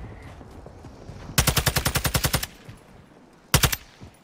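Automatic gunfire in the video game Warzone 2.0: a loud, rapid burst of about a dozen shots, a pause, then a shorter second burst, close and dominant over quiet game ambience.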